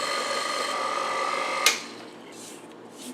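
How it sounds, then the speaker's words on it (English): An electric mixer on low speed blends pumpkin bread batter with a steady, even motor whir for under two seconds, then a sharp click as it shuts off, leaving a quiet room. "we're going to mix this just until it is mixed in thoroughly"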